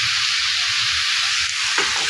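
Boiled vegetables stir-fried in a pan for fried rice with Chinese-style vegetables give a steady, close, loud sizzle, with a couple of scraping stirs near the end and no talking.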